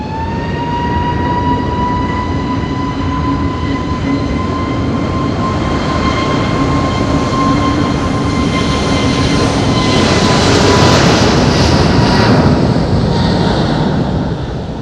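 A plane takes off at Madeira Island Airport from runway 05 in strong wind, a steady broadband engine roar with sustained whining tones, loud and continuous throughout and swelling slightly near the end.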